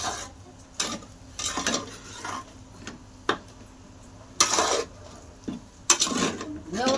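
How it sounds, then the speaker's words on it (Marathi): Sabudana khichdi is stirred and sautéed in a pan, with scattered scraping strokes of a spoon and faint frying, close and quiet, in short bursts separated by brief pauses. "त्याला तर परतत राहायचं."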